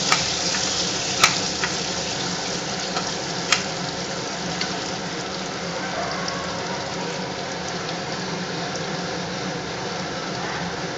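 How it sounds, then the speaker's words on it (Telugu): Eggs frying with turmeric in a pan make a continuous, even sizzle and crackle throughout, close and fairly loud, with a few sharp pops. "ఇది పసుపు వేసి ఈ విధంగా ఫ్రై చేస్తున్నాను."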